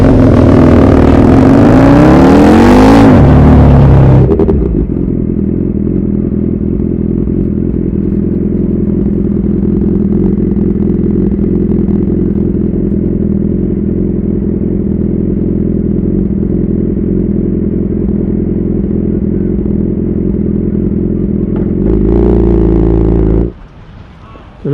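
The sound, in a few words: car pulling off and accelerating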